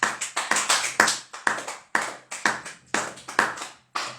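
A church congregation claps together in acclamation of the king of kings, a steady run of sharp, close, even claps with a couple of brief pauses and no voices.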